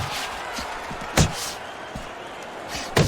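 Two heavy thudding punches land in the Fight Night Champion boxing video game, sharp impacts about two seconds apart over a low arena crowd murmur.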